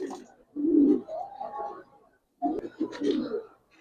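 Giribaz and coloured pigeons cooing close by in two soft, throaty bursts with a short pause between them.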